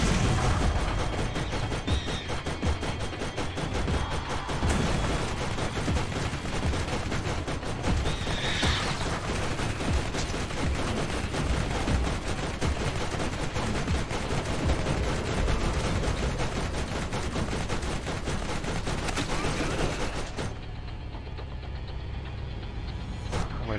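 Rapid, continuous turret gunfire in Borderlands, dense and loud for about twenty seconds with occasional impacts, then abruptly cutting to a quieter rumble near the end.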